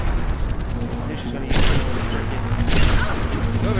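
Overwatch gunfire cracks in sharp bursts of weapon fire and booming impacts, with two louder blasts midway and near the end. Players talk over the shooting throughout.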